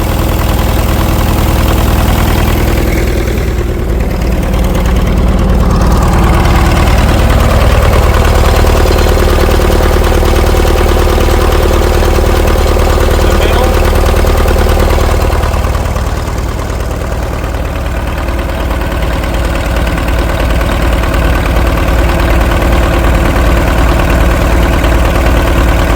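An International TD-6 crawler tractor engine, freed after being locked up, runs with a loud, steady rumbling idle close by, its pitch rising and falling slightly as the throttle is adjusted, with no voices.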